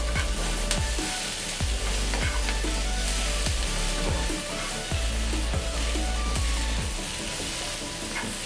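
Vegan food is stirred in a hot frying pan, with continuous sizzling and a series of repeated scraping strokes from the utensil at a roughly regular rhythm, close and loud.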